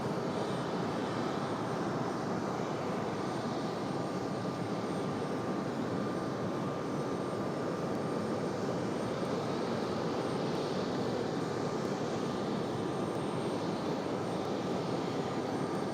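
Aircraft engine noise at Raleigh-Durham International Airport, a steady broadband roar holding at a moderate, fairly distant level throughout with no voices.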